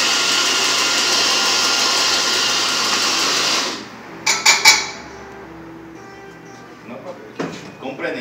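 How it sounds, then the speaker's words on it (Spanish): An espresso machine pulls a shot, a loud steady pump hiss for about four seconds that cuts off, followed by clinks of cup and portafilter handling. "Vamos a sacar una extracción de espresos para ver el color cuerpo y crema."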